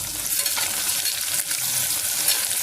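Onions, green chillies and tomatoes fry loudly in a pan, a dense close-up sizzle with faint stirring scrapes running throughout.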